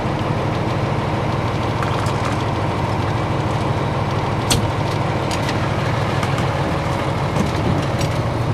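A truck's engine idles during a pre-trip inspection, a loud, steady diesel rumble that holds even from start to finish with no talk over it.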